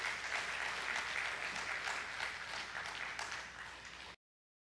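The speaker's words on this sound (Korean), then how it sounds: "힘찬 박수로 맞아 주시기 바랍니다" Church congregation applauding to welcome an elder to the front for a testimony at a Friday night service. A dense, even wash of many hands clapping is held at a moderate level for about four seconds, then cuts off abruptly.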